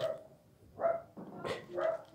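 A dog barking indoors, four short sharp barks in an uneven rhythm, fairly close and loud with no talking over them.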